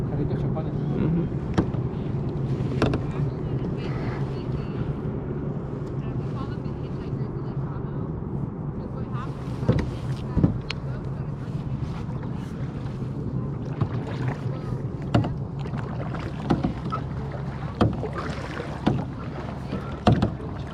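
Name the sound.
clear kayak paddling on Lake Tahoe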